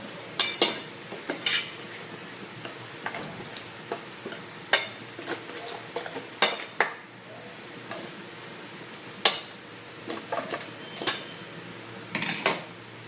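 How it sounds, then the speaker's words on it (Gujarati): A spoon stirring noodle sauce with tomato ketchup in a pan, making repeated sharp metallic clinks and scrapes in an irregular rhythm over a faint low sizzle, close by, with no speech. "થોડોક ટોમેટો કેચઅપ. બધું મિક્સ કરી દઈએ."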